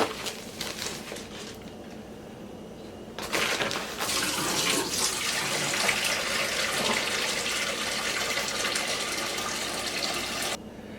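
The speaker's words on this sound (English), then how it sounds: "we're just going to go ahead and put water in here just so it's coming up and almost covering the stones" Water pours steadily into a rock tumbler barrel over stones and coarse silicon carbide grit, a close, continuous splashing gush that starts softly, swells loud after a few seconds and runs on before cutting back near the end.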